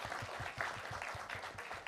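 Faint audience applause at a live anesthesia crisis competition, a soft, fairly even patter of clapping heard from a distance.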